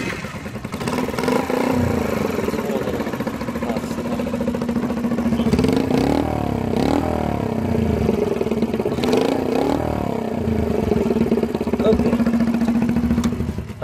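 A Honda Dax motorcycle with its stock exhaust runs at a steady, close idle throughout, then is revved in several quick rising surges in the middle before settling back to idle.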